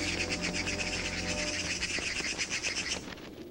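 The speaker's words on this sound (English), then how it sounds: "for her forty thieves were only birds" Many birds chirp and twitter together in a busy, rhythmic chorus that fades slightly near the end.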